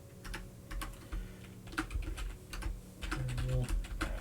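Someone types on a computer keyboard with a series of quick, close key clicks that come in uneven bursts and short pauses over a low room hum.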